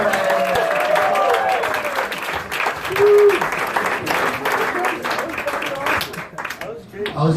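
Comedy club audience applauding and cheering, with clapping and crowd noise blended with voices and a few whoops.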